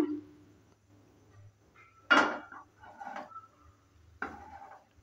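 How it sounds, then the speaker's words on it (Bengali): A kadai (wok) set down on a lit gas stove, with a sharp metallic clank, a softer scrape and a second clank in an otherwise quiet kitchen. "আর একটা কড়াই বসিয়ে দিয়েছি, কড়াইটাকে হিট করে নেব।"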